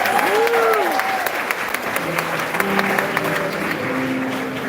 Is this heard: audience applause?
yes